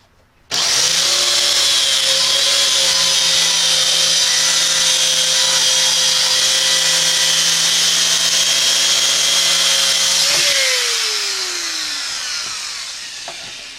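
A Rotorazer compact saw cuts a rounded line with a loud, steady, high-pitched motor whine that holds for about ten seconds, then spins down as the pitch falls and fades.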